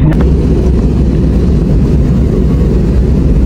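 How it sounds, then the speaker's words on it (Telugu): On a flight from Vizag to Bangkok, the airplane's engines roar loud and unbroken at takeoff, a heavy low rumble that holds steady from start to end. "మన flight take off video full అదిరిపోద్ది"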